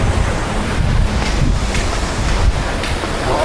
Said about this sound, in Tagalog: Pulang Bato Falls. Sisilipin natin?